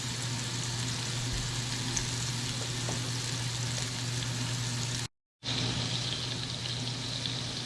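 Hamburger patties fry in a cast iron skillet with a steady, close sizzle and crackle and a low hum beneath, broken by a brief moment of silence before the frying resumes.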